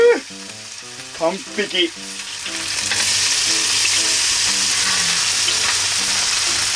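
Green peppers, one side topped with cheese, sizzle steadily and loudly in a frying pan after being flipped, the hiss rising and holding after a brief spoken word and a few soft clinks at the start.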